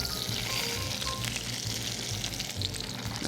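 Trout pan-frying in oil after flipping, a loud continuous close-up sizzle with crackling pops throughout.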